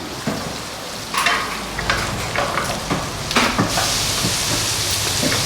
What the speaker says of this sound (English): Puts a little bit of oil in here and browns some garlic